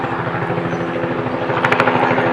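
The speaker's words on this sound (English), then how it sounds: "I wonder why that helicopter is just hovering out there." A news helicopter hovers nearby over a residential street, its loud, steady rotor chop pulsing throughout with no other sounds over it.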